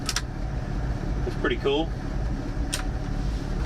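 A 1984 Dodge Ram D100 truck idles with a steady low engine rumble throughout, close and continuous. Someone talks briefly over it, and faint clicks occur at the start and near the end.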